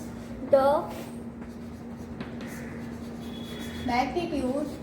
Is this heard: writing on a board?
yes